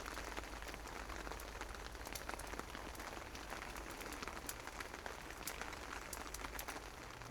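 Steady rain patters on a tent in Cumbria, a dense continuous hiss with scattered sharper drops tapping close by, no voices.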